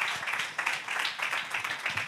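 Congregation clapping in praise during a church service: a short burst of steady hand claps from many people filling the room, fairly close and continuous.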